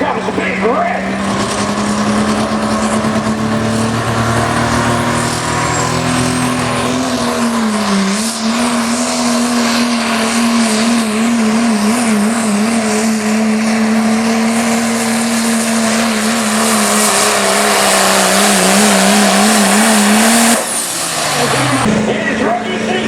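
Red Dodge Ram diesel truck at an Oak Harbor, Ohio limited pro diesel truck pull, engine screaming at high revs in a long sustained loud pull that wavers in pitch and then cuts off near the end, with an announcer talking over it.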